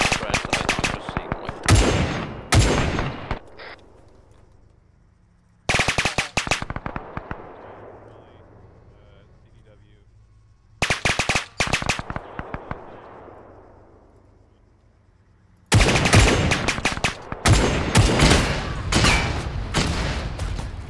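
SMG machine gun fire in a Battle of Wake Island video game, loud rapid bursts of automatic fire in four long volleys separated by quieter ringing gaps.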